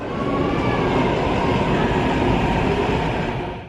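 A Singapore MRT train runs with a steady, loud rumble that holds evenly for several seconds and then eases slightly at the end, with no voices.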